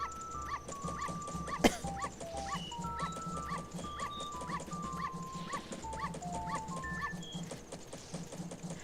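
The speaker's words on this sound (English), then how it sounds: "So the dog here. I think the dog here responds." Dog in Clock Town from the game The Legend of Zelda: Majora's Mask gives repeated short barks and yips in a quick, steady rhythm over a looping game melody and background ambience.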